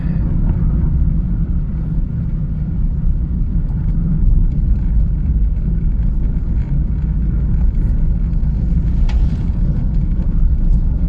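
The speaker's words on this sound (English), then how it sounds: "There's a big tractor coming." A big tractor passing on a road near salt marshes, a steady loud low rumble with wind noise throughout, heard alone from inside a moving vehicle.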